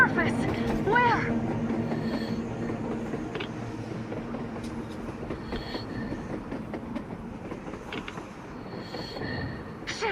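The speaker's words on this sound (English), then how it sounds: "A train! A damn train on the surface!" A train rolls past on the surface in the video game Metro Exodus, a steady rumbling rail noise that holds for the whole stretch, with voices speaking over it.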